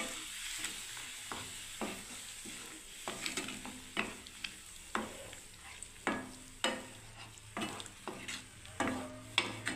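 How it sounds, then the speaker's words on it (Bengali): Hot boiled water hits eggplant and vegetables in a saucepan, cooked with no oil, giving a faint sizzling, bubbling hiss punctuated by repeated soft scraping knocks every second or so. "জল গরম করতে দিয়েছি আমি সসপ্যানে, ফুটে গেছে জলটাকে, এবার আমি দিয়ে দিচ্ছি বন্ধুরা দেখুন।"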